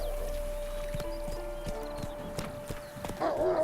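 Hooves of the horse Roach in the video game Witcher 3, rhythmic clip-clop of a running horse with a steady beat, fairly close over a soft game ambience and a brief whinny-like tone near the end.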